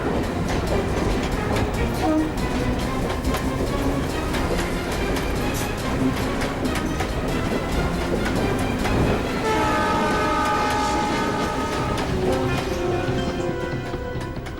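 A train passes at a station with a loud, continuous rumble and rattle of wagons, joined by a sustained horn tone in the later seconds, all close and filling the scene.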